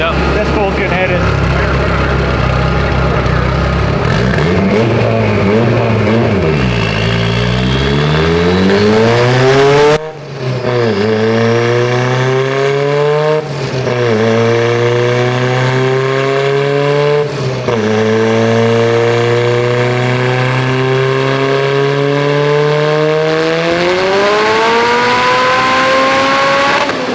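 Mustang with a 2.4L Evo engine and Precision 6466 turbo makes a loud 700 wheel horsepower dyno pull, its engine revving and climbing repeatedly through the gears with brief drops between shifts, close and sustained.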